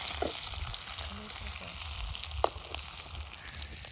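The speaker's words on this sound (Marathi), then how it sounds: "चांगलं लाल तळून कोथमीर बी आपली तळून घ्यायची" Coriander frying in hot oil until well reddened, giving a steady, moderately loud sizzle with faint stirring clicks and one sharp tap partway through, with no talking.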